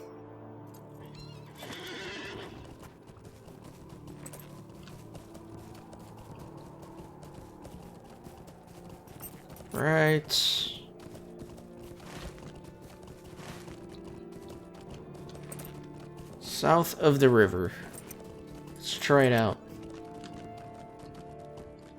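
Horse neighs and hoofbeats in the online game Lord of the Rings Online, with short whinnies around ten seconds and a cluster near seventeen to nineteen seconds, over quiet game ambience with a voice speaking briefly.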